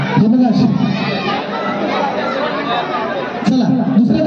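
Children chattering and shouting in a crowded audience at a community event, a steady noisy babble with louder bursts near the start and end.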